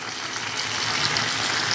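Tamarind paste with coriander leaves sizzles in a pan as tomato pickle cooks down, a steady, close frying hiss that holds evenly throughout with no talking.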